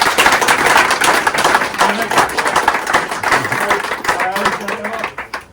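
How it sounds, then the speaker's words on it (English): A group at the SURLY100 2025 event applauds an organiser with dense, loud clapping that fills the room. Voices mix in as the applause slowly tails off. "So give him a round of applause."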